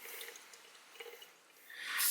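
Soda water fizzing from a DIY bottle carbonated with baking soda and citric acid: a soft, steady hiss of fine bubbles with small crackles, close and fairly quiet, rising to a louder burst at the end.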